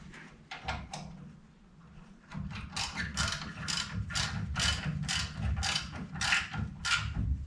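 A hand ratchet tightens Ride Tech steering linkage bolts on a 1970 Chevelle fitted with Global West knuckles. It gives rapid, close, crisp clicking in repeated bursts over a low mechanical hum.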